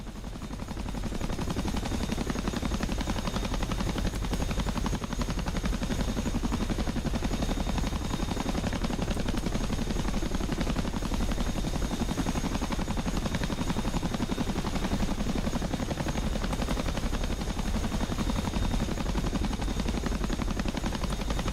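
A Chinook helicopter in a flight simulator game gives a steady, loud rotor thrum and whine that fills the whole stretch without pause.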